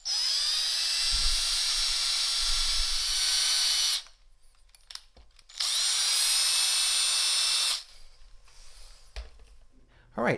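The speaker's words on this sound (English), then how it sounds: "I took the 1/8 inch bit off the drill press, put it in my handheld drill" A handheld drill with a 1/8 inch bit bores into the wooden base of a walnut side table in two loud, high-pitched whining bursts of about four and two seconds, with quiet handling sounds between them.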